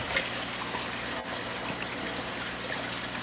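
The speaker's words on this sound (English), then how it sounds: "So there you can see the drips." Water drips and trickles steadily from airline tubing on a drip counter siphon feeding a reef aquarium, a close, continuous wet patter with no voices.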